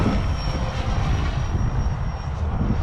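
Raw 580 RC helicopter flying nearby, a continuous loud whirring rotor and motor drone with steady intensity and no talk.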